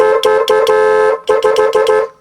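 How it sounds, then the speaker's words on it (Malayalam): The small horn of a Maruti Suzuki 800 beeps repeatedly in two quick groups of short, bright honks, close and loud. "ഭയങ്കര ഇഷ്ടപ്പെട്ട ഈ ഹോൺ"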